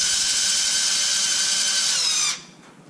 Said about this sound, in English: We'll just remove those screws and replace it with the two different screws.